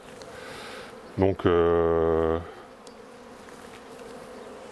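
Honeybees at a hive entrance give off a loud, steady buzzing drone, likely one bee passing close to the microphone, rising suddenly and lasting about a second before fading back into a fainter hum, with a brief word spoken before it.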